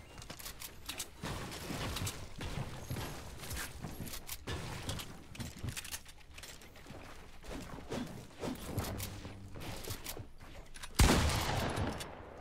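Gunfire in the Fortnite battle royale, with repeated shots and bursts through most of the stretch, dense and fairly loud. A sharper, louder blast comes near the end.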